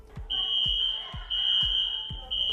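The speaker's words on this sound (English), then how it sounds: "Does your home or work have an emergency alarm?" An emergency alarm sounds as a steady, piercing high beep that runs almost the whole time, over a series of dull low thumps about every half second.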